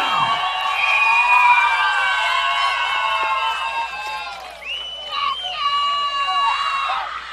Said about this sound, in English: Good crowd here at CY Sports, and they're making themselves heard.